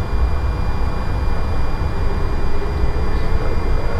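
A Lion Air A330-900 makes a loud, continuous engine roar during its takeoff roll. A broad, steady rumble fills the whole stretch with no break.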